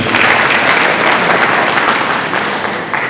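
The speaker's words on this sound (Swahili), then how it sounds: "Tumpige makofi mengi sana rais wetu" An audience applauds the president at an official awards ceremony for officers and staff, a loud, dense burst of clapping from a large crowd that runs throughout.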